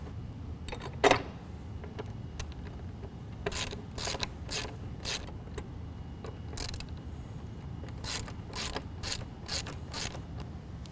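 Ratchet wrench tightening Bestop soft top hardware on a 2011 Jeep JK, with rapid clicking bursts in repeated strokes, close and clear over a quiet background. No one speaks.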